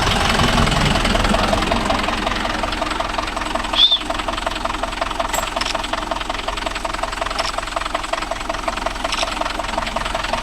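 A Mahindra Yuvo Tech Plus 585 4WD tractor pulling a five-tine cultivator, its diesel engine chugging loudly and steadily with a rhythmic knock, heard up close without speech.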